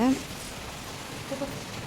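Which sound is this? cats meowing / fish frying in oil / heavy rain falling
heavy rain falling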